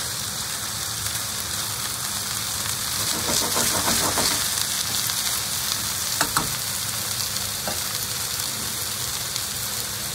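Chicken fillets sizzle and crackle steadily in a pan, a dense frying hiss with occasional louder pops and brief stirring scrapes, close and continuous.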